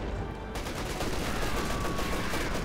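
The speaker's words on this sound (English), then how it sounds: "shooting away with machine guns point blank" Machine gun fire from a Panther tank in Company of Heroes 2 rattles in a dense, continuous burst of rapid shots, loud and close, with no talking over it.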